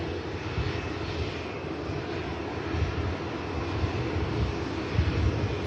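Jet engines of a seven-year-old IndiGo Boeing 787-9 Dreamliner at Manchester Airport, a steady broadband roar with a faint high whine, held at an even level throughout and no voices.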